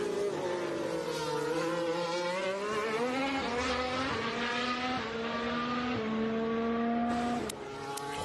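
Formula 1 cars circle the track during practice at the Austrian Grand Prix, their engines whining loudly and steadily, rising and falling in pitch as they pass close by, with no talk over them.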